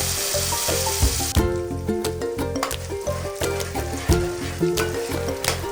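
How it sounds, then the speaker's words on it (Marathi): Ground gravy paste sizzles loudly in ghee and oil with cumin, cinnamon, green chilli and bay leaf, a steady close crackle marked by the rhythmic scrape and clatter of a spoon stirring it in the pan. "फोडणीसाठी थोडं तूप आणि तेलावर जिरं दालचिनी हिरवी मिरची तमालपत्र आणि त्यावर बारीक वाटलेलं ग्रेव्हीचं मिश्रण टाकून ते परतवून घ्यायचं"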